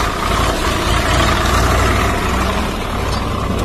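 A Hitachi excavator and tractors working a lake embankment keep up a loud, steady diesel engine rumble throughout, close by and without pause.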